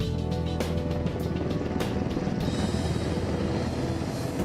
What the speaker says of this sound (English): One of a helicopter's greatest handicaps during a rescue operation like Desert One is the noise made by its rotors.